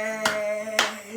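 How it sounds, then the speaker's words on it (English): Two sharp hand claps, evenly spaced about half a second apart, land over a sustained electronic keyboard melody playing a children's clap-along song on an Alesis Melody 54. "clap your hands"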